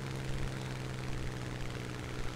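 World War II planes fly over boats in War Thunder, a steady droning propeller engine hum that stays loud and unbroken throughout.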